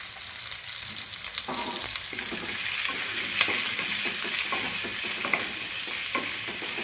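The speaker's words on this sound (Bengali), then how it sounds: "ভালো করে মশলাটা ভেজে নিই।" Chopped onion, green chili and spices fry in a pan, a soft sizzle that grows louder and denser after a couple of seconds, with intermittent stirring scrapes, close up and without talk.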